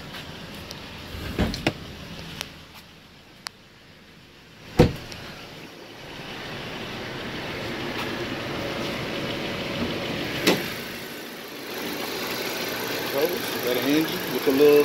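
A 2019 Volkswagen Tiguan SUV engine runs at idle with a low steady hum, a few sharp clunks near the start, and someone talking over it.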